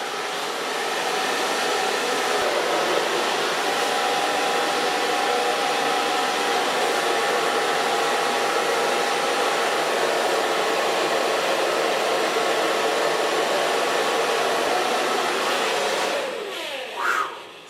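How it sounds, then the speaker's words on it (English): A hair dryer fitted with a diffuser blows steadily on long hair, a loud continuous whoosh with a thin whine that runs unbroken before cutting off near the end with a brief rustle. "take a light diffuser and gently going to blow dry this hair"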